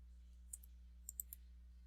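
A computer mouse gives a few crisp, faint clicks, a single one followed by a quick cluster of three, over a low steady electrical hum.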